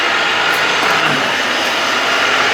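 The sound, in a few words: Mazda RX7 FC3S bridge-ported 13B rotary engine running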